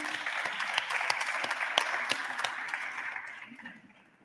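A congress audience applauds a speaker named Vlad, giving a round of many hands clapping with a few sharp, close claps standing out, fading toward the end.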